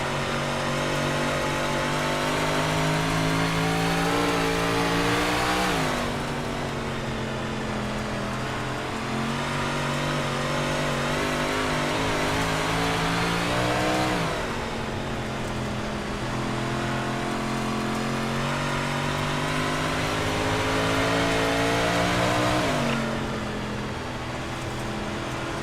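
Modified series race cars racing in iRacing, a dense, loud pack of engines droning continuously, with repeated sweeps in pitch as cars accelerate and lift through the laps, with no talk.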